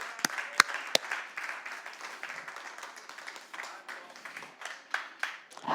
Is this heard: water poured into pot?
no